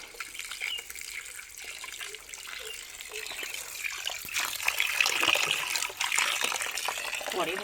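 Tap water runs and splashes into a sink as raw chicken meat is washed, a continuous gushing trickle that grows fuller toward the end, with faint voices in the background.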